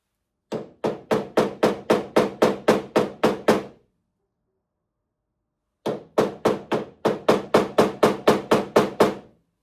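A hammer strikes a centre punch on a metal rear door being fitted with a gas strut, two sharp bursts of about ten evenly spaced metallic taps each, separated by a few seconds of silence.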